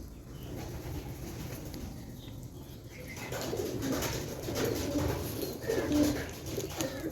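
Low, rolling coos from pigeons at a mini zoo rise over faint background noise, growing more frequent and closer in the second half.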